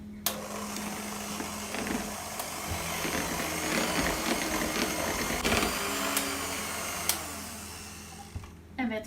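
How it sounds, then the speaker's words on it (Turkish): Cream being whisked with powdered sugar and a 200 g tub of unsalted kaymak gives a steady, loud whirring drone that holds for about nine seconds, with a few brief clicks before it stops abruptly. "Şimdi güzelce çırpayım."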